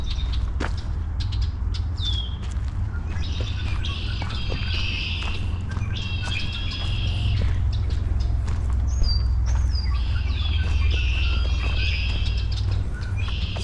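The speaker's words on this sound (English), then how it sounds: "It's good hearing the birds." Birds chirping in repeated short high calls along a creek trail near the East River at Baird Creek in Green Bay, moderately near over a low steady outdoor rumble and soft footsteps.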